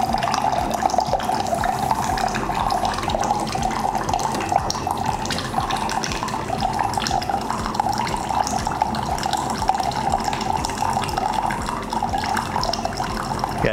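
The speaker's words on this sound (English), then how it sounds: "Yeah, it's definitely producing the hot water." An RKIN U1 countertop reverse osmosis system dispenses hot water into a small cup, a steady, moderately loud stream of pouring and splashing that runs evenly throughout with no talking.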